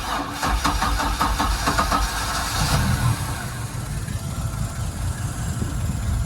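The Mercruiser 4.3L MPI 220HP engine on a 2005 Bayliner 195 is started: quick rhythmic cranking pulses, then the engine catches and settles into a steady low rumble. The sound is close and nobody speaks.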